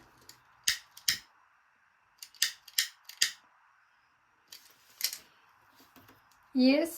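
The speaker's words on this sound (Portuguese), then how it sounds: "Vou cortar rente aqui, ó, meu zíper." Scissors snip fabric close to a zipper on a baby organizer project: several crisp, separate cuts in small clusters, fairly close and clear against a quiet background, ending with a brief higher-pitched sound.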